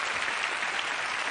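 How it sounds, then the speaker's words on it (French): Studio audience at a French comedy show applauds hard, a continuous, even wash of many hands clapping with no pauses. "on peut les applaudir très fort"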